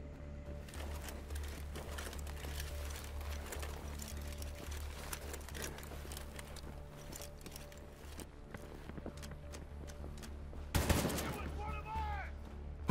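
Mines detonating in the World War 3 video game, a sharp burst near the end following a long stretch of scattered battlefield gunfire and ambient game noise, with a voice speaking over it.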